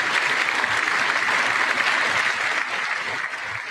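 Sustained applause during the State of the Union address, a thick, even roar of clapping from a large chamber audience that stays loud throughout and eases slightly toward the end.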